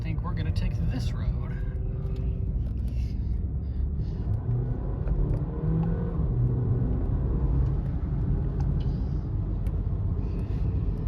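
A Porsche daily driver pulls out and drives off with a low, steady engine rumble and road noise from inside the cabin. The engine note rises gently and stays continuous throughout.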